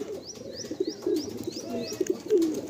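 Young Madrasi pigeons, a tournament-flying breed, coo in low, soft murmurs that repeat steadily at close range, with faint higher chirps above.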